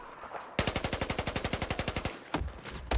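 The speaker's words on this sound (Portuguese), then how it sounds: "É muito tiro de muito lado, velho." Rapid automatic machine-gun fire in the video game Battlefield 1, a loud burst of evenly spaced shots for about a second and a half, followed by a few more scattered gunshots.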